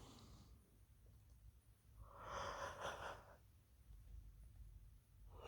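A person yawns at night, a soft breathy exhale swelling for about a second in the middle, faint and close, surrounded by quiet background hum.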